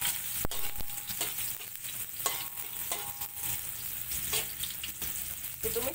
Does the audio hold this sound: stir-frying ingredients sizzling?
yes